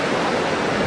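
Surf at Piha Beach rolling in as a steady, dense broadband wash of breaking waves, continuous and fairly loud without distinct individual crashes across the short stretch.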